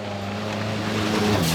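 Onboard a Renault Super 5 Turbo rally car at the Tour de Corse Historique, the engine drones loud and steady with a low harmonic rumble that rises slightly in pitch near the end.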